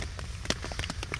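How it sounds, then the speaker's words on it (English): Rain pattering on a tarp shelter aboard a shanty boat during a thunderstorm makes a steady dense hiss, with scattered louder drops tapping on top, close overhead. "It's just listening to the pitter patter on top of the tarp."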